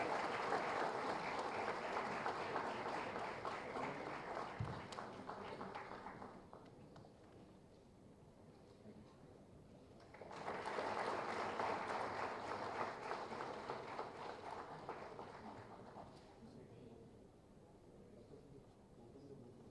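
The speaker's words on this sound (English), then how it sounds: "Can we have a big round of applause once again?" Conference audience at ISBACON 2024 in Hyderabad applauding, two distinct bursts of full crowd clapping separated by a quieter lull, heard at a distance and fairly faint overall.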